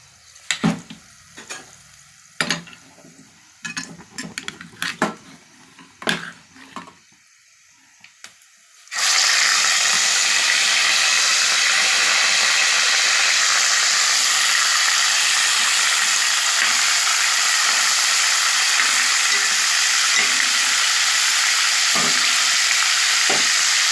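Spices and mutton hit hot oil for haleem. A few scattered clicks and taps come first, then a loud, dense, continuous sizzle surges up and holds steadily.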